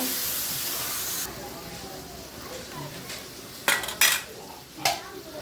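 Vegetables tipped into a pan of spiced salted hilsa, with a steady sizzling hiss giving way to a few sharp clatters of utensil against metal near the end.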